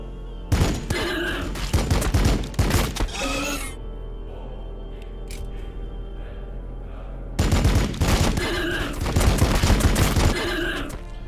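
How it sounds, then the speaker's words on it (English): Gunfire in the Warhammer 40K: Battlesector strategy game, loud clustered volleys of rapid shots in two heavy bursts separated by a quieter stretch of distant rumble and faint pops. "Move him in to start popping off some shots."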